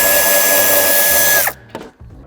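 Power tool spinning steadily while removing tail light screws on a BMW X5, a high continuous whine that winds down and stops, followed by a couple of faint clicks and handling sounds.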